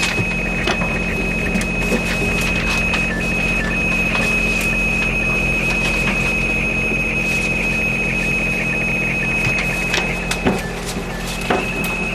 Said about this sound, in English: The background noise you can hear is this weather fax coming through.